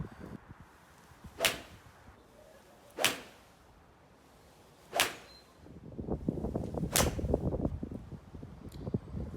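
Golf balls struck with a 4 iron outdoors: four sharp, crisp strikes spaced a couple of seconds apart, each ringing briefly, with a rising rush of wind or ambient noise behind the final two.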